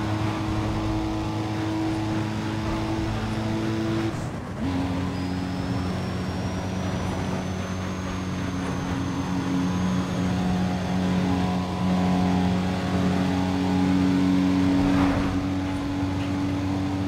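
A Toyota Supra races in the video game Need for Speed: The Run, its steady engine drone rising and holding. There is a brief gear shift around the middle, then a louder, sustained pull, with no talking.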